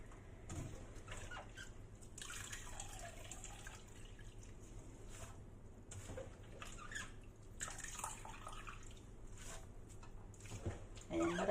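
Running water splashes and trickles as bird's nest is rinsed repeatedly for a dessert, a steady close wash with intermittent louder bursts of flow and faint handling noises.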